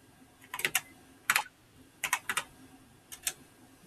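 Buttons are pressed on a handheld calculator in quick, light clicks, grouped in short bursts of two or three with pauses between, faint and close with no talking.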